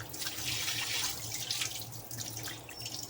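Rinse water drains and trickles from washed horse gram in a home kitchen, a steady close splashing and running-water wash with no talking.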